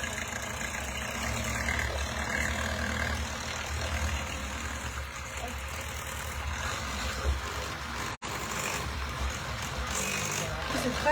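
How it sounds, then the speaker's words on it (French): Electric mixer whipping eggs and sugar in a round-bottomed mixing bowl, giving a continuous motor whir and rattle throughout with a voice faintly audible underneath. "je vais faire tripler de volume les œufs et le sucre"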